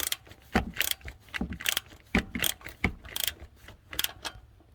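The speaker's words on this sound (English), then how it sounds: "I'm going to take my ratchet and we'll see if this thing moves." A hand ratchet clicks in quick, uneven bursts while turning a bolt on an 8.1 Vortec alternator, loud and close with short pauses between strokes.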